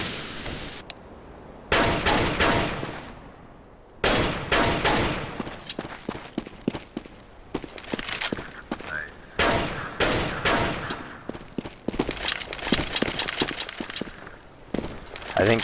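Rapid gunfire in Counter-Strike on the map de_train, loud bursts and repeated single shots crackling through the round alongside sharp impact noises.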